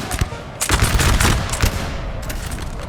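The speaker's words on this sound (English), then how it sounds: "And those guns get a good volley off." Musket volley in Napoleon Total War's Battle of Lapua (1808): dense, crackling broadband gunfire bursts that roll on with scattered sharp reports over a continuous battlefield roar, loud and close.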